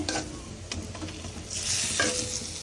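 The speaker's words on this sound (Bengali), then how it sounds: "পেঁয়াজ কাঁচা এই এখন একটু ভেজে নিচ্ছে এই যে মশলা দেওয়া হয়েছে" Onions and spices frying in a pan give a close, steady crackling sizzle. A few clicks and scrapes from stirring sound through it, and the sizzle swells louder in the second half.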